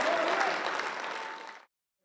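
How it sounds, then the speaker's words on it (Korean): Lawmakers in the National Assembly chamber give a dense burst of applause for a presidential address. The clapping is loud and sustained, then stops abruptly and leaves near silence. "박수와 환호를 보냈습니다"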